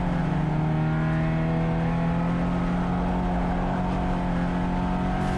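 A race car accelerates hard through a corner at Calabogie Motorsports Park, its engine note holding a steady, loud, rising drone close by with no talk over it.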